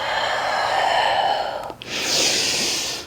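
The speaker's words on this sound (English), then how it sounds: "Moving with the breath, inhale and exhale." Deep yoga breathing: a long, loud airy inhale, a brief pause, then a strong breathy exhale, close to the microphone.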